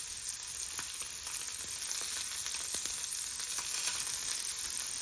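Nethili anchovy fish fry in a pan of oil, giving a steady, close, even crackling sizzle with small pops scattered through it. No voices are present.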